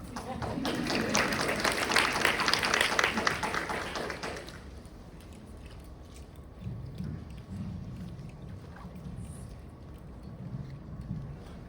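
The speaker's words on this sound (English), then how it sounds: "Clap for getting started." Audience at a Black women's reproductive freedom discussion gives a short burst of applause that fades out after about four seconds, leaving quiet room murmur.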